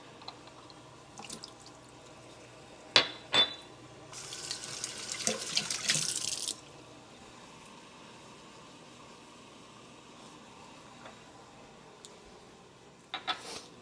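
Water poured out into a sink while making espresso with a Breville Bambino, a short splashing burst of a few seconds near the middle of an otherwise quiet kitchen scene, with a few clicks and clunks around it.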